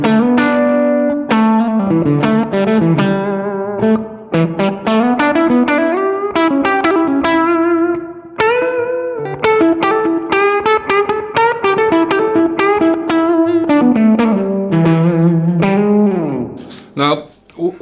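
Electric guitar played through a JAM Pedals Fuzz Phrase Si fuzz pedal into an amp set near breakup with the gain low, a continuous run of sustained fuzzy notes and sliding bends, loud and without talk.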